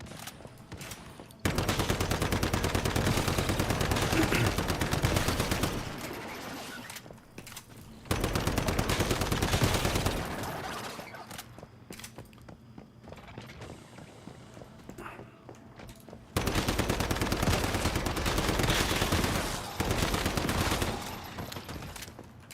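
Sustained bursts of automatic gunfire in the survival shooter Once Human, three long loud volleys of rapid shots separated by quieter gaps, close and harsh, with no talking.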